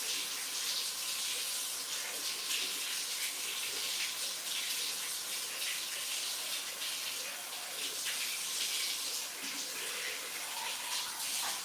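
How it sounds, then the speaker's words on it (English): Water runs steadily from a tap while a petal-mold rose made of coloured material is rinsed off, a continuous broadband rush that stays even and fairly loud for the whole stretch. "Let's see if we can wash this off."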